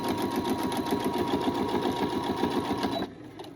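A sewing machine runs fast and steady, stitching a lavender-filled knee pad with white thread, its even rapid whirring and needle chatter close and loud for about three seconds before stopping abruptly.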